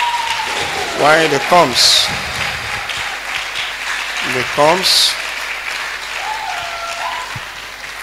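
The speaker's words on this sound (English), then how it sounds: "let's clap for Jesus" A church congregation breaks into applause for a testimony, clapping steadily throughout with a cheering voice rising over it and someone speaking briefly amid the clapping.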